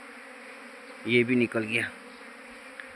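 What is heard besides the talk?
honeybee swarm buzzing around hive boxes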